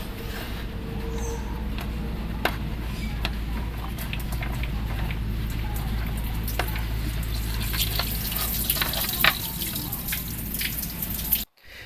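Coolant drains from the radiator of a 2003–2006 Mitsubishi Lancer, a continuous close trickle and splash of liquid pouring steadily into a container, with faint drips and clicks on top and no voices.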